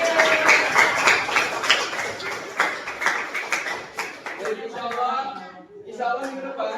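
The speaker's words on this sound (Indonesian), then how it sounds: "tepuk tangan untuk kita semua." A group of people clapping hands together in a classroom session, fairly close and brisk, the clapping thinning out toward the end as a voice begins speaking.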